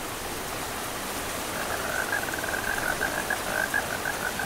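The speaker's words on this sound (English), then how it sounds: "It's raining!" Steady rain hissing down as a broad, even wash of noise, with a faint repeated chirping or croaking pulse layered over it in the second half; no voices.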